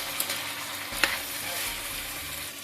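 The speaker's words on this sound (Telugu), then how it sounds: "ఇప్పుడు దొండకాయ ముక్కల్ని బాగా కలుపుకోవాలండి" Ivy gourd (tindora) pieces are stirred as they fry in a pan, with a soft continuous sizzle under a couple of sharp scraping clicks from the spoon.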